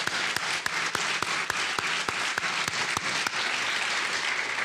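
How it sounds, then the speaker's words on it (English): Hands clap in a brisk, evenly spaced rhythm under a wash of audience applause for a senator at an event on American unity, the sharp claps standing out loud and close over the steady crowd. "Can we have a round of applause for Senator Snowe,"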